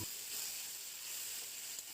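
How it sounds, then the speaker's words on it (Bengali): Boiled, drained taro leaves sizzle as they are stirred into hot oil, giving a steady, close hiss that runs the whole time with no voices. "আগে থেকে জল ঝরিয়ে রেখে দেওয়া কচু শাক সেদ্ধটা তেলের মধ্যে দিয়ে দিতে হবে এবং ভালো করে সমস্ত কিছু তেলের সাথে মিশিয়ে নিতে হবে"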